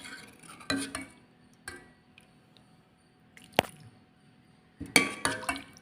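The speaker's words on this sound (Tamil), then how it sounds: "இப்போ இந்த அடை பாயசம் எடுத்து ஒரு பவுலில் போட்டுக்கலாம்." Ada payasam, a rice-flake pudding, is ladled into a bowl: a few sharp clinks of a spoon against the dish come at irregular intervals, separated by soft quiet gaps.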